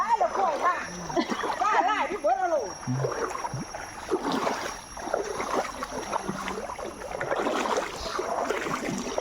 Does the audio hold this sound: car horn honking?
no